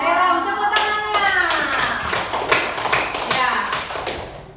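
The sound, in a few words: classroom applause for the winning group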